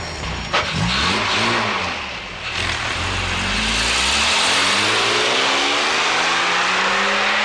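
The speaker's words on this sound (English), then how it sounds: "That is the loudest car, I think, in the entire world." A car engine in the 1972 film Frenzy revs loud and close, with a roaring rise, a brief dip, then a sustained harsh drone that climbs steadily in pitch as it accelerates.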